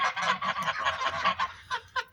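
Geese honk repeatedly up close, a rapid series of nasal calls followed by two separate louder honks near the end.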